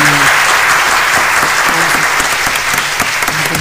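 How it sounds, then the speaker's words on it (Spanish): Loud, close applause fills a radio studio after a poetry reading during an FM interview, with a dense patter of clapping that runs steadily throughout. "Acompañemos el aplauso acá del operador"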